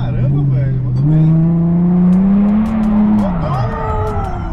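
A Nissan 350Z with a custom-built exhaust revs up hard and holds a loud, rising engine drone before dropping back, with a deep rumbling tone and crackling pops near the end.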